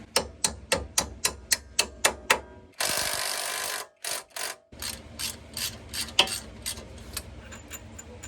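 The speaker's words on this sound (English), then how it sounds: "torque the hub nut down, put our bolt back in." Ratchet wrench tightening the wheel hub nut and bolt on a Chevy Blazer 4WD front end, a quick run of sharp clicks, then a short burst of noise, then slower irregular clicking, close and alone.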